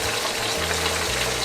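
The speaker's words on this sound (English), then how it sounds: "And then we're gonna put it in flour and then fry it again inside some butter." Floured fish frying in butter in a pan, a steady close hiss and crackle of sizzling fat with no voices.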